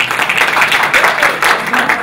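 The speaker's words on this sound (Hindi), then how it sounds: "तालियां मिलाएं" Audience applause at a literature festival session, a dense, steady wash of clapping from a crowd lasting about two seconds at fairly loud level, with no speech over it.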